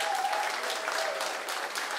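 Audience applause at a live music show, a steady patter of many hands clapping at moderate distance, continuous and fairly even without voices.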